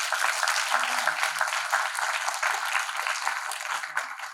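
Audience applause at an international conference on nurturing innovation in organisations, steady dense clapping from a crowd filling the whole stretch at an even level, with no talk.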